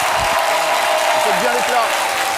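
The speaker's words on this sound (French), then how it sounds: "Nous allons leur souhaiter la bienvenue avec des applaudissements incroyables." Studio audience applause on a French midday TV show set: dense, steady clapping fills the short stretch, with faint voices mixed underneath.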